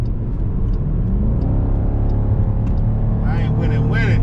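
A 2021 Dodge Durango R/T with the Tow & Go package drives with its engine humming low and steady, the pitch climbing slowly as it revs, close and continuous, with a voice speaking over it toward the end.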